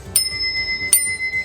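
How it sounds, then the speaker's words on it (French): Two bright rings of a bicycle bell, struck about a second apart on a touring bike during a two-person cycling trip through Germany, loud and close with no talk. "la particularité qui différencie nos 2 vélos, c'est la sonnette"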